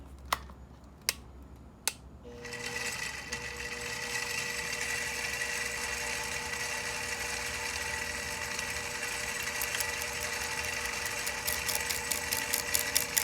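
Milling machine spins up its cutter to touch off on a knife folder blade before cutting a nail nick; a few sharp clicks come first, then a steady mechanical whine and hum that holds, with light ticking near the end.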